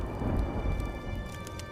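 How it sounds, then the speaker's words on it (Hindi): Steady rain falls with a low thundery rumble rolling underneath, quiet and continuous over a short span, with no voices. "आसमान में काले बादल छा जाते हैं और जोर जोर से बिजली कड़कने लगती है"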